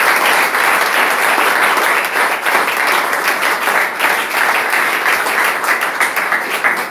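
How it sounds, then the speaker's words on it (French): Congregation at an evangelical church service in Cameroon clapping loudly and continuously, a dense, close ovation with a slightly uneven rhythm and no talking. "Applaudissons pour le Seigneur."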